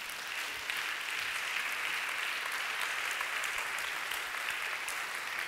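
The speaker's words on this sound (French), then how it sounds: "Acclamons le Saint-Esprit." A church congregation claps together in a steady, continuous round of applause, heard from a moderate distance with no break or pause.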